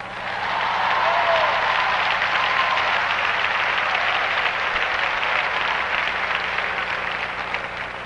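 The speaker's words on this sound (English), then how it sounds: "Clap loud" A church congregation claps loudly during a sermon on singleness, a sustained, dense roar of hands that swells in the first second and holds steady, with faint voices mixed into the crowd.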